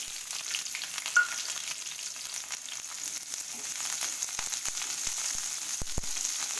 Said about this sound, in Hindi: डाल देती हूँ मैं थोड़ा सा तेल, इसमें फ्राई करूँगी आलू और ये गोभी